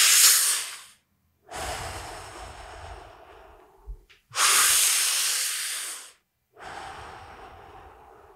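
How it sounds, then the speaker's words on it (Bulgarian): Slow, deliberate deep breaths through the mouth: four long airy inhales and exhales in a steady rhythm separated by short pauses, close and clear with no talking. "аз го правя нарочно през устата, за да може да усетите и да ме чуете"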